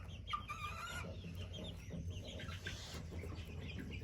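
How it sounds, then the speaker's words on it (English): Up close in a quiet coop, a bantam rooster gives soft, fairly faint clucks and a few short warbling calls, with light rustling in the background. "I love a banty rooster."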